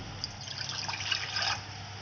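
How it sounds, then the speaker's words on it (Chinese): A cup of water pours into a cooking pot, making a soft, steady trickle and splash that stays fairly quiet and continuous for a couple of seconds. "用一个锅子倒入一杯清水加热"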